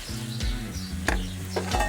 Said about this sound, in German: Und einmal umrühren und weiter anbraten lassen.